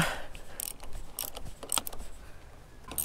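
Fork cap on a Kawasaki KLR650 Gen 3 being unscrewed during a YSS fork kit install: close, quiet ratcheting clicks and metallic scraping in short irregular bursts over a low background hum.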